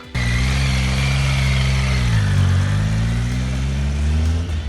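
A motorcycle engine hums steadily up close, its pitch dipping and then rising again as the bike rides around a block in Canada, loud and continuous.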